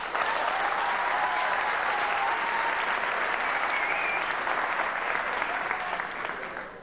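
A comedy show audience bursts into sustained applause, a dense wash of clapping from a crowd at moderate distance that holds steady and tapers slightly at the end, with no talking over it.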